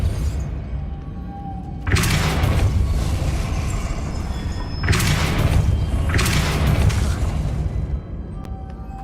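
Spell blasts in the Hogwarts Legacy game: two loud, broad whooshing bursts with booming impact, each lasting about three seconds, over a steady low game ambience.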